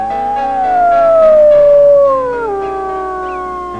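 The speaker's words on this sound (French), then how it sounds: "tout à coup un chien hurla très fort" A single dog howls loudly, one long sustained wail that slowly slides downward in pitch before trailing off, close and alone with no talking.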